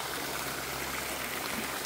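Water rushes through a 4-inch pipe feeding a homemade waterwheel generator, making a continuous, even hiss of flow that is fairly close, with no talking.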